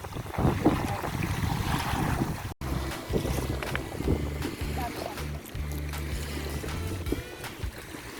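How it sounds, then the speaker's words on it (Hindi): Strong wind gusts roar across the microphone at Half Moon Beach in Half Moon Bay, a loud continuous rumble with surf behind it, briefly cutting out once. "हवा भी बहुत ज़्यादा चल रही है"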